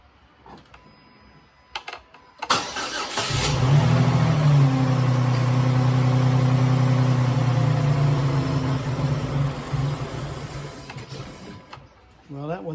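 A Dodge Nitro engine with a known lifter noise and misfire cranks and catches, then runs at a steady, loud idle for several seconds before cutting out abruptly, with a voice speaking briefly before it starts.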